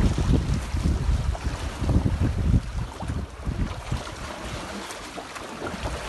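A Libertist 703 sailboat glides at five to six knots in light wind of about five knots. Gusty wind buffets the microphone over a soft, steady rush of water, louder at first and easing toward the end.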